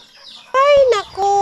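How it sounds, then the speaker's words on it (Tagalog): A chicken squawks loudly in a few sharp, nasal bursts, close by, with nothing else around it. "Nagsigaw yung manok."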